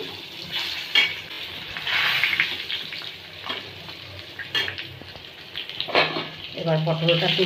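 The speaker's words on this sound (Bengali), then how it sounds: "পটলটা প্রায় ভাজা হয়ে গেল।" Pointed gourd (potol) frying in a pan, a steady broad sizzle with occasional utensil scrapes and clinks, fairly close and moderately loud; a voice is heard faintly at times under the frying.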